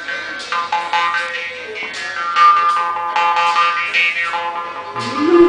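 A jaw harp twangs in a rapid buzzing drone, its overtones sliding up and down as the mouth shape changes, loud and close for several seconds with no talking.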